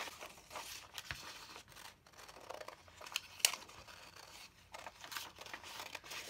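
Scissors cut a vintage-style paper doll out of paper: faint, irregular snips and soft paper rustling, quiet and close, with no talking.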